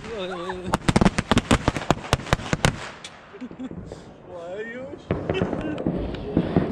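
Diwali fireworks and firecrackers bursting in a rapid volley of sharp loud bangs for the first few seconds, then scattered pops and crackles, with people talking and calling out between the blasts.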